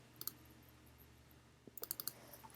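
Keystrokes on a computer keyboard while text is being sized: a quick pair of soft taps near the start, a quiet pause, then a brisk run of clicky strokes toward the end, with no talking.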